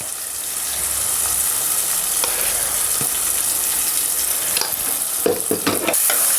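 Taro curry sizzles and fries in a pan with a constant loud hiss, while a spoon scrapes and stirs in intermittent strokes, most clearly toward the end; no one speaks.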